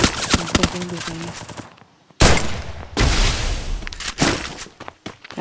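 Rapid video game gunfire rattles in loud, dense bursts with sharp cracks and brief pauses between volleys, while someone speaks over parts of the shooting.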